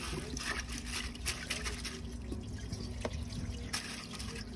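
Water trickles and drips steadily into an American Standard Cadet toilet tank as it refills, a quiet continuous flow with occasional splashy drips.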